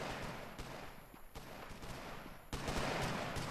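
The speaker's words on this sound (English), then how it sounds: "These guys are still taking shots, though. These guards on the corner." Guards firing from a corner in the video game Colony Survival, a string of sharp shots cracking at irregular intervals amid a battle din, with a louder burst near the end.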